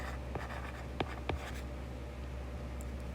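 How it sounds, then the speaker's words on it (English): A stylus taps and strokes across a tablet screen in a few faint, quick scratches and ticks, close up, against a steady low hum. "on the screen, I'm going to write love"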